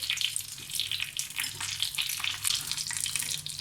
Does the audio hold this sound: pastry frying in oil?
yes